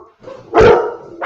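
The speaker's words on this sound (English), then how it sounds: "I know the dog is just as fired up about this as we are" A dog barks loudly and close by indoors, two to three sharp barks in quick succession with no voices over them.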